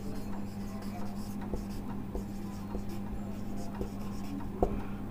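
Chalk or marker writes on a board during a chemistry lecture, making soft, repeated scratchy strokes with small taps over a constant low hum in a room, with no talking.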